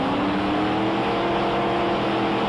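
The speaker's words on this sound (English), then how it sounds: "Alan Dobson, Castrol funny car, closest to your camera." Castrol funny car at a drag race staging for a start, its engine idling and revving loudly and steadily up close, with a dense mechanical roar throughout.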